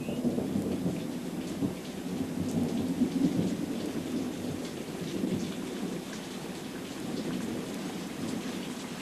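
Steady spring rain pours down in a continuous dense wash, with deep thunder rumbling underneath throughout and no voices.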